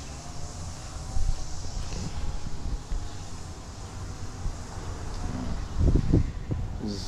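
Wind buffets the microphone in low, gusty rumbles, rising and falling irregularly, with a few louder thumps near the end.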